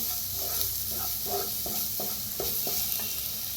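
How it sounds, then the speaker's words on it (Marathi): Spices with turmeric fry in a pan, giving a steady close sizzle with about eight regular stirring strokes scraping across it. "त्याच्यात टाकूया अर्धा चमचा हळद, भाजून घेऊया"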